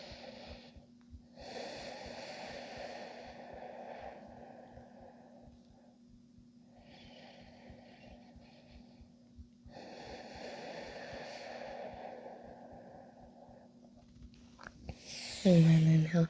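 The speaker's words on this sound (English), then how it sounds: "take some breaths here." Slow, deep yoga breathing close to the microphone, several long airy inhales and exhales in a calm rhythm, with a brief voice near the end.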